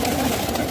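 Pigeons coo in a short, soft, throaty burst, heard close up against a low background murmur.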